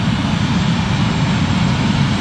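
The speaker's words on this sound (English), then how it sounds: "as he hits that afterburner button" A jet-engine drag car at an NHRA drag race fires its afterburner, producing a loud, steady, unbroken roar that fills the whole stretch without talk.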